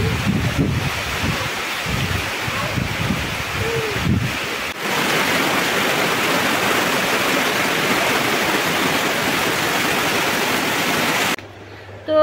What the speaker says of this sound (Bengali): বাইরের বৃষ্টি উপভোগ করছে